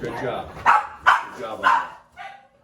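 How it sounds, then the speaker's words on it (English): Dogs bark in short bursts nearby, about four sharp barks spaced roughly half a second apart, heard during an arnis martial arts lesson while a person talks over them. "Sorry for the dogs."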